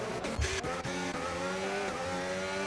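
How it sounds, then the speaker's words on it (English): Race cars in a racing video game at Zandvoort slide and drift under braking, with a steady, loud engine drone and shifting revs and no pause across the short stretch. "big slide from Tice and My Master, drifting the car in the braking zone there"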